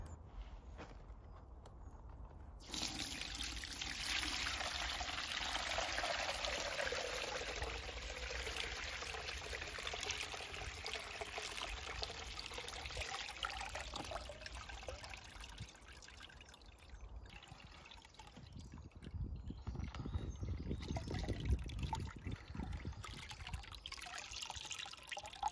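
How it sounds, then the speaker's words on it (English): Water poured from buckets through a net into a watering can at an allotment, a sustained splashing pour with trickling and occasional footsteps and handling knocks, fairly close and continuous. "Then pour into watering can and then watering can into there."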